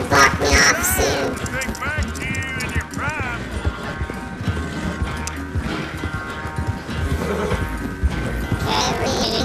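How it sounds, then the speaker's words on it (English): Horse galloping in the video game Red Dead Redemption 2, a steady clip-clop of hooves with occasional whinnies, mixed under a continuous game soundtrack and busy effects throughout. "Galloping continuously will cause horse stamina to drain quickly."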